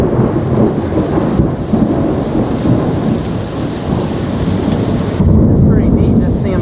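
A heavy thunderstorm in Tampa, with loud, dense rain pouring down and continuous rumbling thunder rolling underneath, close and steady throughout with no talking.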